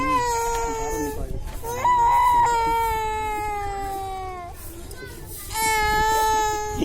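A small child cries and wails in long, loud, drawn-out sobs close by, with short breaks between bursts.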